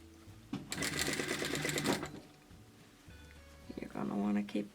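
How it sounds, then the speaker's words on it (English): Sewing machine stitching a seam on a woven fabric band for a DIY button hairband, a loud steady run of rapid stitching that stops, then resumes briefly near the end, with a voice talking between the bursts. "keep sewing along this wee seam until we get to the second set of notches on the opposite side"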